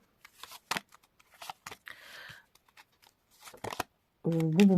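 Tarot cards are shuffled in quick riffling bursts with pauses between, close by, and a voice starts speaking at the end.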